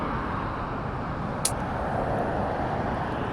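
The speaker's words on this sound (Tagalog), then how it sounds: "Lakas magpatakbo ng mga sasakyan guys." Vehicles speed past on a busy road, a steady close broadband roar of traffic with a brief sharp high click midway.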